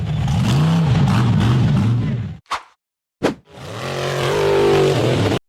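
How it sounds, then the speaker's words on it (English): Off-road buggy engine roaring up a steep dirt hill at full throttle, loud and close, with a wavering high-revving drone that cuts out briefly, gives two sharp bangs, then resumes revving. "The red and black buggy blasted up the steep hill at full speed."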